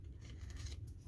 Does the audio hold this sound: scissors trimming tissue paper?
yes